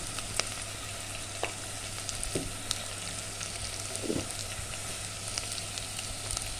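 Onions sizzle and crackle steadily in a pan with garlic for a moong dal lemon rasam, a constant hiss broken by a few soft stirring scrapes and clicks, close and moderately loud with no voices.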